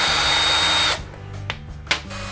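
A power drill runs loud and steady for about a second while backing a screw out of a wall panel in a hallway, then cuts off, leaving a couple of short clicks and knocks.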